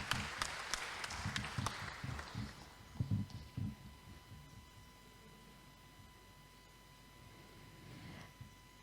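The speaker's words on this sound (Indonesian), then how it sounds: "Beri tepuk tangan yang meriah untuk kita semua." Audience applause at the launch event of a solar entrepreneur development center in Surabaya, a burst of clapping in the opening seconds that fades out, with scattered claps following and a steady tone underneath.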